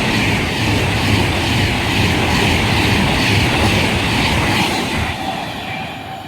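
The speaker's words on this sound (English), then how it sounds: "now we have Virgin Pendolino coming through" A Virgin Pendolino train rushes past on the West Coast Main Line at Hartford, a loud, close, steady roar of wheels and rail noise with a faint rhythmic clatter, easing slightly near the end.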